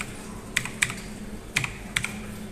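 Keys tapped on a computer keyboard, a few short clicks in two small bursts, close and clear over a quiet background.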